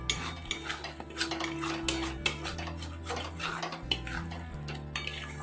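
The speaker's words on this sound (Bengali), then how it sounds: "আমি এবারে আলু গাজরটা দিয়ে দিলাম, দিয়ে ভালো করে আমি নেড়ে নেব।" A spoon stirs chunks of potato and carrot through hot oil in a cooking pan for a broccoli and paneer curry. Scraping clicks and taps repeat irregularly, close by, over a steady background of music.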